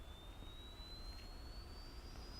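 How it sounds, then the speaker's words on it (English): A steady jet engine drone from the ArmA 3 video game, with a faint rising whine, continuous and even throughout, no voices. "You should be able to hear the engines rolling."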